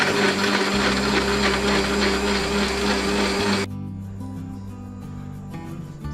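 Kitchen blender running again on a soda mint drink with ice, a loud steady motor roar that stops partway through, leaving a quieter room tone afterward.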